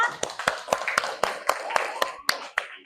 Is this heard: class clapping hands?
yes